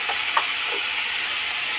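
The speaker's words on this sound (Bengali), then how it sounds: "পেঁয়াজ দিলাম তেলে। এবার নাড়াচাড়া করা হবে" Onions sizzle in hot oil with turmeric as they are stirred, a steady close frying hiss broken by a few soft scraping stirs of the spoon.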